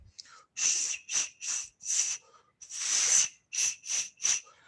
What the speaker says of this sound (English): somebody used to take pen cap and they used to do whistle